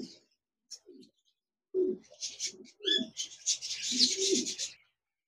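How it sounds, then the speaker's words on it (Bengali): Diamond doves coo in soft, throaty bursts, a few short calls first, then a longer run of overlapping coos and chirps nearby. "এখানে দেখতে পাচ্ছেন একজোড়া ডায়মন্ড ডাব ঘুঘু পাখি রয়েছে"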